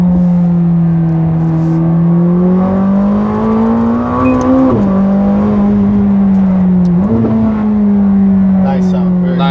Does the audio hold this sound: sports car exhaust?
yes